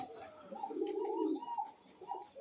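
Pigeons cooing on a pigeon farm, a few soft throaty coos rising and falling close by, with faint chirps in the background and no talking.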